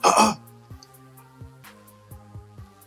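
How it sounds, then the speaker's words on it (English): Someone gives one loud, close throat clearing right at the start, then it drops away to quieter tonal sounds with a few soft knocks. "Let me clear my throat."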